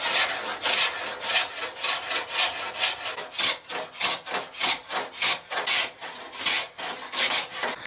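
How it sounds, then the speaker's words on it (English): Hand scraper stripping worn shellac finish from old oak drawers, a rapid series of rasping strokes, about two per second, close and steady throughout with no speech. "This finish is quite bad, a lot of it's worn away, looks like shellac, so I'm going to try it with the scraper first"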